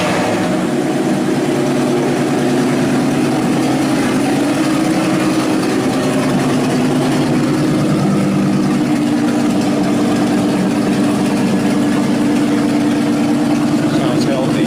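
A 1934 Ford pickup with an unusual engine idles loud and close in a steady, even drone with a low throb, running continuously for the whole stretch.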